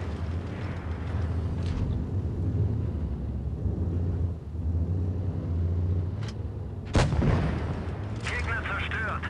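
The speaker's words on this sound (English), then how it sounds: "Getting some good shots off each other." Tank cannon shots in the World of Tanks Blitz game exchanged between Mäuschen and VK 168 tanks: a steady engine rumble underlies several sharp blasts, the loudest near the end, with game voices faintly present.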